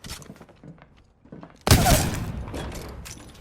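A loud burst of gunfire in the video game Apex Legends erupts suddenly after quieter shuffling sounds and rings out with a decaying tail at close range.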